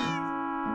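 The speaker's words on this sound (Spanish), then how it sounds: "¡Oh, y es mi gato!" A single Minecraft cat meows once, close and clear, a short tonal cry with a rising then falling pitch and no talk over it.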